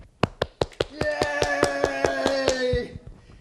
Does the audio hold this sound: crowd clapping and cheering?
yes